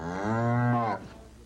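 A single cow gives a long, loud, close moo lasting about a second, in a pasture in New Braintree, Massachusetts, with quiet open air after it.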